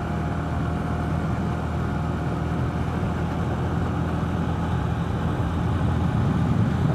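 A motorcycle engine drones steadily while the bike rolls along at an easy pace, an even mid-low hum with little change in pitch, close and continuous with light wind noise throughout.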